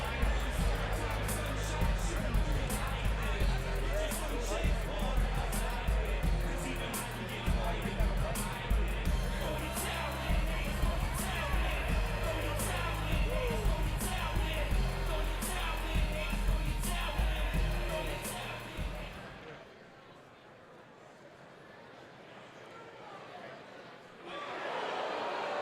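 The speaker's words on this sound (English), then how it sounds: "You can hear by the reaction of the crowd." A packed arena crowd at a NAAFS Caged Fury 16 cage-fight event roars and rumbles steadily in reaction to a knockout, loud and sustained, then abruptly drops away to near silence near the end.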